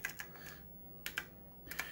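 Keys clatter on an Apple IIc computer keyboard, a few quick crisp taps in short bursts with brief pauses between, close and fairly quiet.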